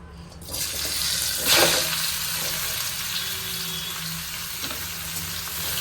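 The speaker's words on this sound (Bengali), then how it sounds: "এখন ঘি গরম আছে, ঘিয়ের মধ্যে দিয়ে দেব এই আমলকি" Amla, Indian gooseberry, hits hot ghee with a loud burst of sizzling, then settles into a steady, close frying hiss that continues without speech.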